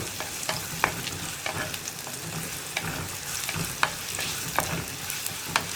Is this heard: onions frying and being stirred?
yes